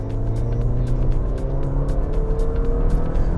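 A 2020 Honda City with an i-VTEC petrol engine revs steadily from inside the cabin, a constant low rumble with rising harmonic tones that hold loud through the whole stretch.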